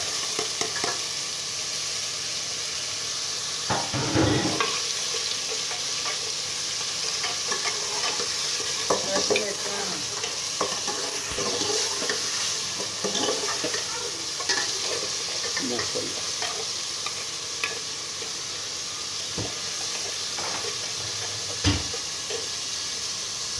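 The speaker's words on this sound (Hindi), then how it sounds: "अब ये लहसुन अदरक का पेस्ट जाएगा इसमें" Garlic-ginger paste fries in a pan for an aloo baingan dish, a steady broadband sizzle running throughout while a spoon scrapes and stirs in irregular knocks and swishes, with a few sharper clanks of utensil against metal.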